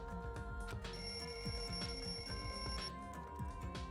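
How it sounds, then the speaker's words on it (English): A wall clock alarm rings in the video game Danganronpa 2, a steady electronic bell-like ringing that holds at a constant level for the whole stretch over a busy musical background. "The lounge's wall clock alarm started ringing at 5:30."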